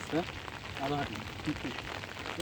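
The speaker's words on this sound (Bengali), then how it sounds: "খুব বৃষ্টি খুব খুব বৃষ্টি" Heavy rain falls in a village setting as a dense, steady patter, with voices talking over it.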